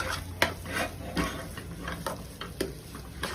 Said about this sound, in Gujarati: કોથમીર એડ કર્યા પછી આપણે ફરીથી મિક્સ કરી દઈશું.